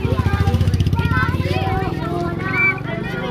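A motorcycle passes, its engine a pulsing low putter that is strongest early and then fades as people talk over it.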